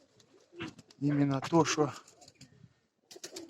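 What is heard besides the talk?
pigeons cooing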